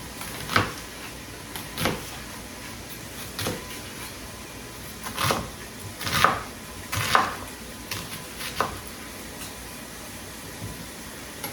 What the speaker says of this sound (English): All right, so my onion is chopped.